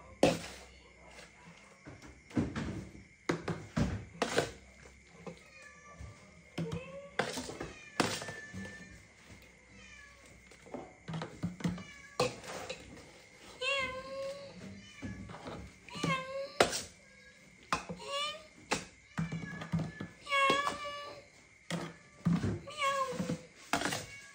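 Cat meowing repeatedly, several clear close meows and drawn-out cries spread across the stretch, mixed with scattered knocks and thumps, while people talk intermittently.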